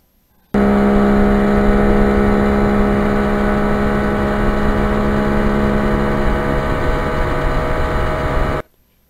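A restored 1973 Kawasaki H1 motorcycle heard while riding gives a loud, steady engine drone with a strong buzzing tone. It holds an even pitch from start to end, close up and alone.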